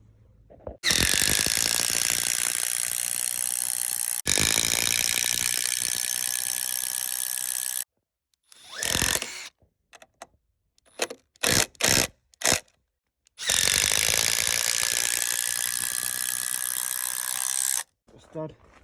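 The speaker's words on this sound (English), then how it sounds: "75mm engineered screws into there, and 5 of these 35mm engineered screws" Driver sinking 75mm and 35mm engineered screws into timber, several loud close whirring bursts with gaps between, the last run ending in short stuttering pulses.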